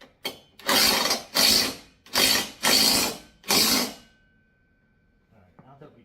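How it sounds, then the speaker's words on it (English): A power drill bores into a wall to mount a heavy-duty pull-up bar. It fires in five short, loud, close bursts with brief pauses between them, and then the room goes quiet apart from a few faint handling knocks. "So let's just finish drilling this in a little bit further."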